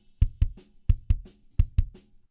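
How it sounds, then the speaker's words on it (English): Two-hit kick drum pattern repeated three times, punchy and close, with a very faint snare bleeding in quietly behind each pair of thumps. "you can hear that really quiet snare drum in the background"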